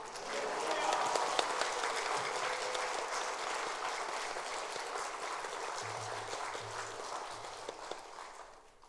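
Church congregation clapping enthusiastically in welcome during a service, a steady wash of hand claps with voices faintly mixed in, gradually tapering off toward the end.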